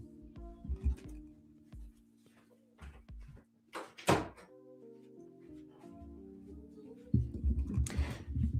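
An office door swings shut with a single dull thunk, heard close over a low background hum with scattered faint knocks around it.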